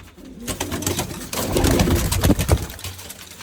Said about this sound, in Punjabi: ਹੋ ਗਏ ਪੰਜ ਕਬੂਤਰ ਚਾਰ ਕਬੂਤਰ ਇੱਕ ਘੁੱਗਾ